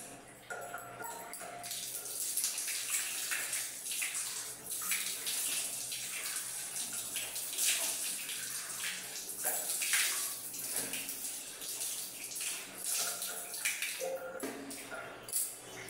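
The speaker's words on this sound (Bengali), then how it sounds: "মুখটা একটু ধুয়ে নিই" Tap water gushes steadily into a basin while someone washes their face, with irregular splashes and hand movements breaking up the continuous rush.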